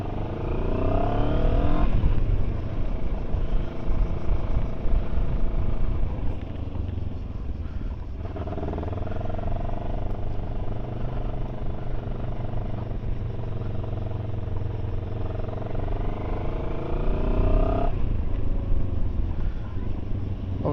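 Rieju Xplora 707 motorcycle engine under way, a loud steady drone with rising and falling pitch as the rider shifts through gears, wind rush throughout and no talking.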